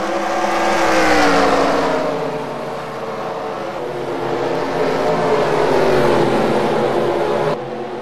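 Race cars roar around the Bristol short track in a stock-car series race, a loud continuous engine drone with rising and falling pitch as the pack circles, holding steady throughout with no talk.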